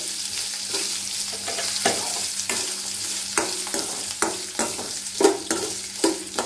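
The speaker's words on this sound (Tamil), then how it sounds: "இப்போ நம்ம இஞ்சி ஆட் பண்ணிக்கலாம். இதையும் வந்து கொஞ்சம் வறுத்துக்கணும்." Ginger sautéing in a pan for a thuvaiyal, a soft steady sizzle broken by spatula scrapes that grow more frequent, close and moderately loud, no voices.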